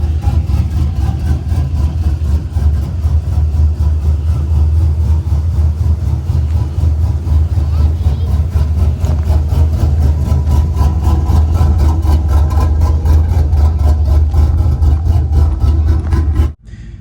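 Chevrolet Silverado V8 idling on a ghost cam tune, a loud, deep, rumbling idle with a steady lumpy chop throughout, cutting off abruptly at the end.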